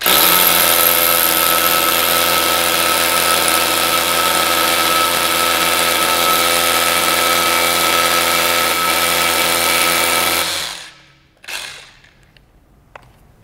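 A Hilti power tool runs steadily against a wall on a construction site, raising dust, a loud continuous mechanical roar for about ten seconds that cuts off abruptly, followed by a brief short burst and near silence.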